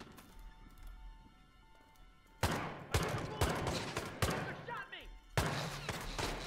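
Gunfire in Hitman with a stolen handgun: a quiet stretch, then about five sharp shots spaced roughly half a second to a second apart, fairly close and loud, with faint background noise between them.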